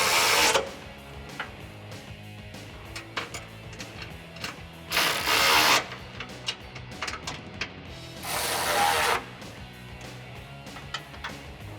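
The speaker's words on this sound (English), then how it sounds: "while I tighten up my bolts underneath" Ratchet wrench clicking as bolts are tightened under the front bumper of a 2004-2008 Ford F150 during a DV8 Off-Road full-width bumper install, with brief louder bursts of rapid ratcheting amid steady clicks and no talk.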